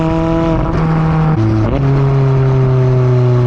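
A 2019 McLaren 570S Spider's engine drones loud and close at high revs while driving, its steady pitch dipping briefly as it shifts before climbing and holding again.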